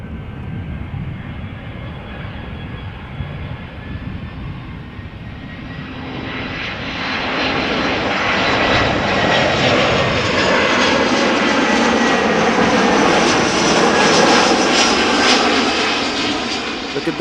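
An ITA Airways airliner in old Alitalia livery at Amsterdam Schiphol Airport, its engine roar building from a steady distant rumble into a loud, broad jet roar that holds and begins to fade near the end.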